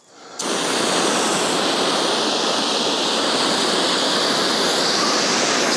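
Water sprays from a garden hose nozzle on its flat setting, starting abruptly and then holding a loud, even, broad rushing hiss with no voices.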